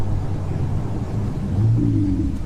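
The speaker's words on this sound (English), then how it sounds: "there's a downshift" A Ferrari 488 GTB's engine rumbles low from inside the cabin on a first drive, then its tone swells and climbs briefly as it blips through a downshift, moderately loud and with no voices.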